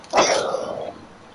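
One short, sharp human sneeze bursts out near the microphone during a Rainbow Six Siege gaming session, then trails off into a brief breathy tail and quiet.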